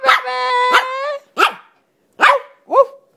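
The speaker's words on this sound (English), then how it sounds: "Who are you barking at, boy?" Yorkshire terrier barking at night: a long, drawn-out yelp followed by several sharp, loud barks in an irregular rhythm, close by with short silent gaps between them.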